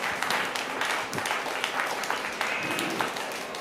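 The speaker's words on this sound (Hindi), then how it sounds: "जोरदार तालियां उठें" An audience at a poetry gathering gives steady applause, many hands clapping in a continuous moderate patter, somewhat distant and fairly quiet.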